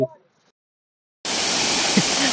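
After a second of silence, the rush of Ratnaganda waterfall at Daspalla, Nayagarh cuts in abruptly as a loud, steady roar of falling water.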